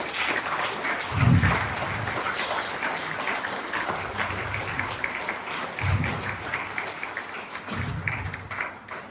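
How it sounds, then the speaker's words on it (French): An audience at a New Year's greetings ceremony in a French village applauds with a dense, continuous clapping that carries steadily, with a few low thumps scattered through it. "Nous pouvons les applaudir."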